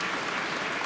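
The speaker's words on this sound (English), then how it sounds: "Let's give them a round of applause" A police change of command ceremony audience applauds steadily and densely, a continuous wash of clapping that fills the short moment without any voices.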